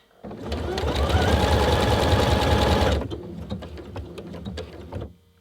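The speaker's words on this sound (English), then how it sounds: "I can press my locking stitch button and then carry on sewing, and it will finish at the end of a complete design." Janome Atelier 6 sewing machine stitching out a design, a loud, rapid mechanical whirring and clatter running steadily for about three seconds before stopping, followed by quieter clicks and handling noises.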